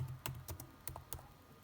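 Quick close keystrokes on a computer keyboard while entering a search in Windows 10, about seven crisp clicks in an uneven burst with no talk.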